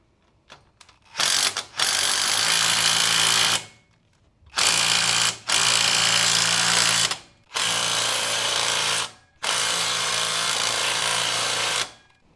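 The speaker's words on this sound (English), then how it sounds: "You really shouldn't use a socket wrench for this" A socket wrench cranking down the steering stabilizer bolts on an 80 Series Land Cruiser, heard as four loud sustained bursts of rapid ratcheting separated by short pauses, close by, with no talking.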